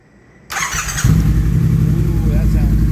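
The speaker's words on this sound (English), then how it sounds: "Let's get her fired up." A Triumph T120 motorcycle fitted with a Predator Shortie exhaust is started up close: a starter whirrs, then the engine catches and settles into a loud, throbbing idle.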